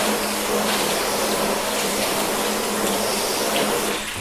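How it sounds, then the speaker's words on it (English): Water sprays in a steady, loud, hissing rush over the lower panels of a car with a ceramic quick-detailer coating, continuous and close with no pauses. "So now let's just rinse this whole bottom section again."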